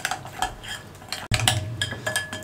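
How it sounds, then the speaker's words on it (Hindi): Spices and a pinch of yellow food colour being stirred into tikka marinade in a bowl, a spoon scraping and clinking against the sides in quick repeated strokes, close and fairly loud, with a brief gap midway. "शामिल करके अच्छे तरीके से मिक्स कर देंगे।"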